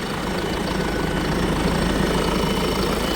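Deutz-Fahr Agrolux 80 CRDi tractor engine idling close by, a steady low diesel rumble with a continuous turbo whine over it.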